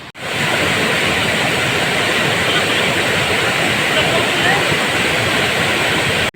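Pradhanpat waterfall in Deogarh, Odisha, crashes down strongly after rain, making a loud, continuous roaring rush of water with no breaks.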